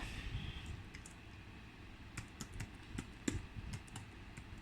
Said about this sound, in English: I think we're gonna type it again.